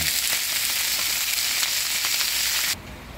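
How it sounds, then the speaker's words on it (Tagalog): Shrimp sizzle and fry steadily in a hot pan with ginger and onion, a loud continuous crackling hiss with no talking, cutting off abruptly near the end. "Lagay ko na ang hipon guys. Ayan, karami ang hipon."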